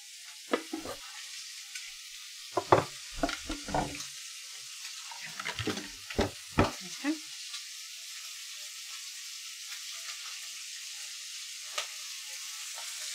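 Italian sausage frying in a pan, with a potato masher breaking it apart: a run of clattering, scraping knocks and sizzle over the first seven seconds, then a quieter steady hiss.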